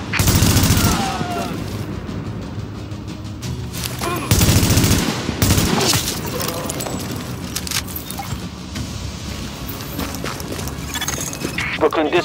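Gunfire and grenade explosions in The Division video game during a precinct siege, with loud bursts near the start and a heavy blast around four seconds, over a continuous battle din with voices talking.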